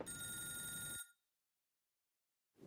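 An old-style telephone bell rings loud and close in a continuous metallic trill for about a second, then stops dead. Silence follows before another ring begins at the very end.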